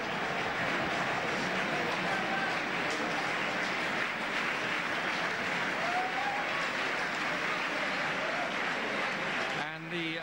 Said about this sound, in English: the applause goes around the ground for the 100 partnership